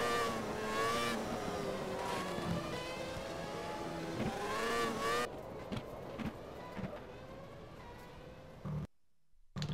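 Race car engine roaring through the corkscrew in Race 07, A1 Grand Prix at the American Grand Prix, loud and continuous with rising and falling revs through gear changes, thinning out then cutting to a brief silence near the end.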